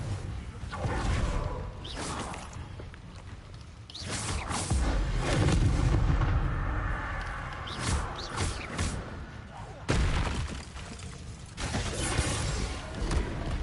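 Confringo blasting spells explode in Hogwarts Legacy, with repeated heavy booms and whooshing bursts over busy combat noise and occasional voices.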